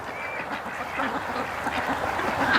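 Ducks quack in a yard where they are raised, a few nearby calls repeating over a steady background, with no one speaking.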